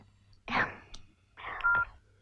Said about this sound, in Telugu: వేరే కాల్ వస్తుంది.